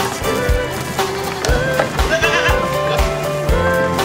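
Sheep bleating repeatedly while being fed fresh grass at Pertang Farm, several close, wavering calls over a steady busy background with beat-like thumps.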